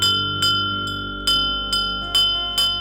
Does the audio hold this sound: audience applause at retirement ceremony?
no